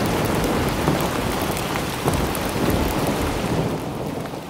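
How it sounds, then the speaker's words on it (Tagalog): Heavy rain pours down steadily and loudly during a thunderstorm, with low rumbles of thunder rolling beneath the dense hiss of rain. "bigla na lang bumuhos ang malakas na ulan"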